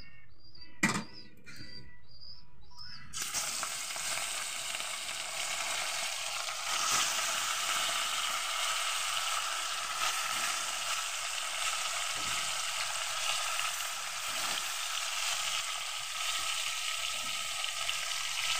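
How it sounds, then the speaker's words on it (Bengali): Fish fries in hot oil in a wok: after a quiet opening with a few small knocks, a steady, fairly soft sizzle runs unbroken for the rest of the stretch. "এবার মাছটা আমি ভেজে নিচ্ছি।"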